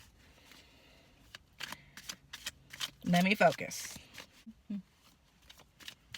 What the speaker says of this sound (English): this is how I shuffle.